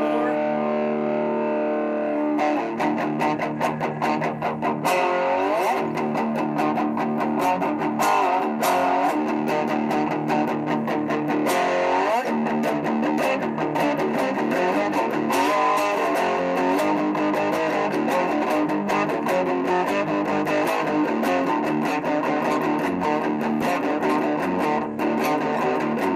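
A heavily distorted electric guitar made from a shovel plays continuously and loudly, sustained gritty chords and bends in a deep blues style with a droning low end, no voices.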